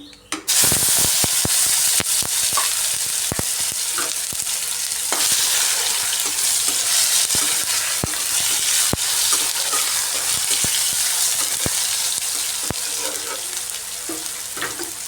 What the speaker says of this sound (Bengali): এবার এর মধ্যে কেটে রাখা টমেটোটা দিয়ে দিচ্ছি।